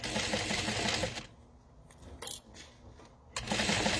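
A sewing machine stitches two fabrics along a curve for a wallet, its fast mechanical whir running close and steady, then stopping briefly and starting up again.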